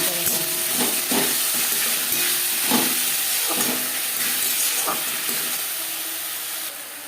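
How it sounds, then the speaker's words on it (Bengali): Garlic, ginger and green chili paste for a chicken momo filling fry and hiss steadily in a pan, with repeated soft scraping strokes of stirring over the sizzle. "মশলার কাঁচা গন্ধ যাওয়া পর্যন্ত নাড়াচাড়া করে নেব"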